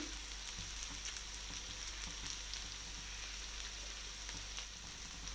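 Shallots and curry leaves fry in oil for a prawn dish, giving a quiet, even sizzle. Light clicks and scrapes of stirring are scattered through it, and nobody speaks.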